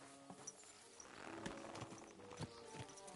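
A horse's hooves clip-clop in a steady walking rhythm in the video game Kingdom Come: Deliverance II, quiet and close, with faint ambient noise around them.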